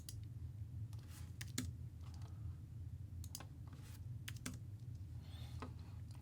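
Computer keyboard keys pressed as CAD shortcuts while modelling a 3D-printed radio wheel adapter, heard as scattered, sharp, fairly close clicks and short typing bursts over a steady low hum, with no talking.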